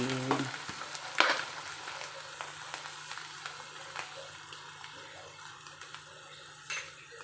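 Okra frying in a pan as it is stirred, with a steady sizzle throughout and a sharp utensil scrape near the start and again near the end, close and fairly quiet.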